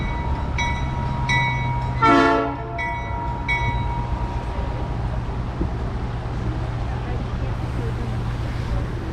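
A tourist train on the Georgetown Loop Railroad in Georgetown, Colorado, rumbles steadily along the tracks, sounding a few short horn blasts followed by one long loud blast, with wind noise throughout.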